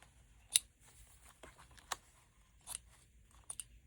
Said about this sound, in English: I'm going to cut them short enough that I can just tape them down